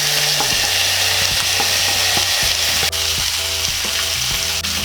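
Chicken pieces hitting a pan of sautéed onions for chicken afritada, a loud, continuous close-up sizzle and crackle that stays dense throughout, with a faint steady hum beneath.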